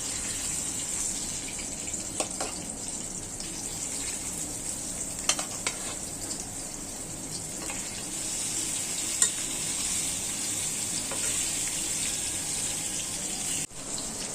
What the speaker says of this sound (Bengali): এখন মাছ ভেজে নিব আমি।